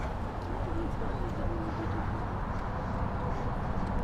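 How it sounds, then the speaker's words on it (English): Pigeons coo softly on a Manhattan street, their low calls faint beneath a steady wash of city and traffic noise that fills the whole stretch. "Even if the birds are trying to strafe people."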